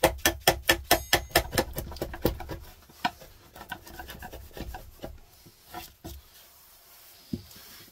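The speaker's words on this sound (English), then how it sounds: "what I'll do then is go at it with a Japanese Shinto rasp." Japanese Shinto rasp filing a wooden Strat-style guitar body in a small workshop, a run of rapid rhythmic rasping strokes, close and loud at first, then slower, sparser strokes.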